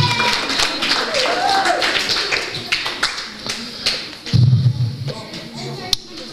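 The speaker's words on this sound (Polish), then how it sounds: "Brawa dla Maciusia." A group applauding Maciuś at a Christmas Eve gathering of a Franciscan children's aid centre in Głubczyce: close, sharp handclaps that thin out toward the end, with voices mixed in.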